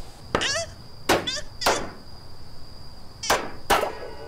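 Heavy hammer blows in an 80s-themed video game, five sharp impacts spaced unevenly over a few seconds, each loud and close with a brief ringing tail over a faint steady background hum.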